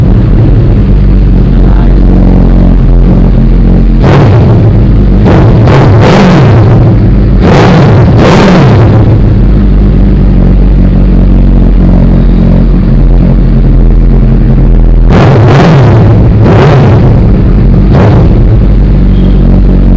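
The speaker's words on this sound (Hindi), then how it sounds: "यार भाई मुझे इसका एग्जॉस्ट सुनना है।" A Suzuki Hayabusa superbike, a 2021 model, revs its engine in loud bursts at close range, with several sharp throttle blips over a steady low idle rumble and no talking.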